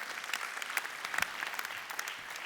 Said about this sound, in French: vous pouvez l'applaudir par anticipation